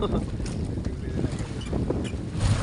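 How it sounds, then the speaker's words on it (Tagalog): Steady, roaring wind at sea buffets the microphone, with low rumbling gusts and a faint wash of water underneath, continuous and loud throughout. "Yan, naputol lang aming bandera sa sobrang lakas ng hangin"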